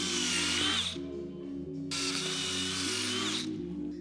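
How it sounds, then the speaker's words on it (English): A 1/2-inch bit drills through a plate for a transmission crossmember and motor mount, giving two loud, harsh grinding bursts separated by a short pause, up close with no talking. "So we drilled it with 1/2-inch drill bits and broke 2 of them"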